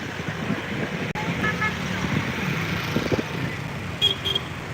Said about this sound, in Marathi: सगळ्या रिक्षा वगैरे चालू आहेत